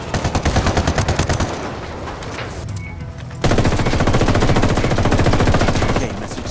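Automatic gunfire in Tom Clancy's Ghost Recon Wildlands, loud rapid bursts of machine-gun fire, a short pause, then a long sustained volley.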